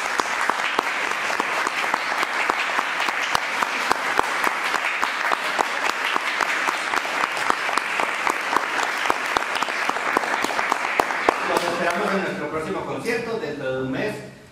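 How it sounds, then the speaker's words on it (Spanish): Sustained audience applause after a four-hand piano duo performance at a conference concert, dense steady clapping for about twelve seconds before fading as a voice begins speaking. "Pido nuevamente un aplauso para estas bellas artistas."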